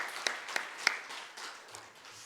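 At a Korean church Sunday morning service, the congregation claps for the choir: a few sharp, distinct claps over soft, sparse applause that fades away, with a faint voice near the end.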